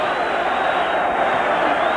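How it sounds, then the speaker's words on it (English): A boxing arena crowd erupts in a dense, sustained roar of cheering at the end of a title fight, loud and unbroken with no clear individual voices. "This crowd absolutely erupts."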